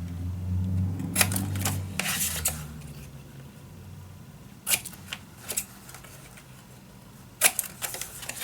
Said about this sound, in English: We're just going to cut down the corner and we're going to stay 1 to 2 millimeters away from that corner.